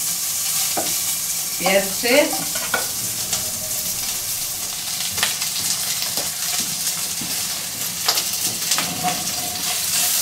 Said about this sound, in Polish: Tutaj już się smaży.